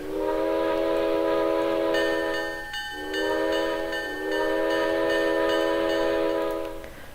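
Locomotive Mighty Mo in the Trainz video game sounds a loud multi-chime horn in three long blasts with brief gaps, over a steady engine rumble.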